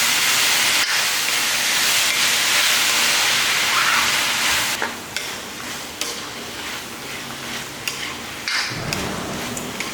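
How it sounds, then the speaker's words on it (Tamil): Finely cut brinjal (eggplant) pieces, about a quarter kilo, sautéing in a pan for a chutney, giving a steady loud sizzling hiss with occasional stirring scrapes, easing slightly partway through. "இது ஒரு 2 நிமிஷத்துக்கு நல்லா வதக்கிக்கலாம்."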